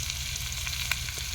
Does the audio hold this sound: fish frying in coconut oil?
yes